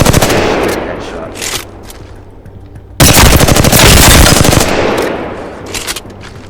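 Rapid bursts of gunfire in the Apex Legends video game as a practice dummy is shot, loud and close, with repeated volleys separated by brief pauses.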